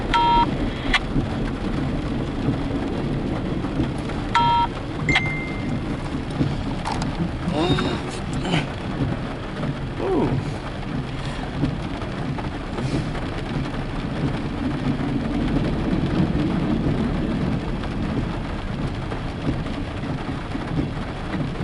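Heavy rain pours down in a thunderstorm, a dense continuous wash of noise with low rolling rumbles and a few sharp brief sounds scattered through it.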